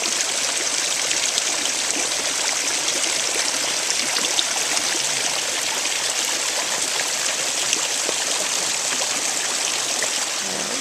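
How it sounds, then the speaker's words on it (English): Water flows steadily in the Fountain of the Lumini at Villa Lante, Bagnaia, Italy, a close, even rushing and trickling wash that continues unbroken throughout, with no voices. "Close up of the fountain de Lumini, fountain of the Lumini at Villa Lante."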